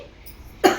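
A single sharp cough bursts out near the end after a stretch of quiet room tone.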